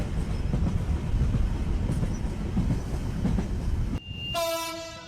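A train rumbles and clatters steadily along the tracks, then a loud horn blares near the end.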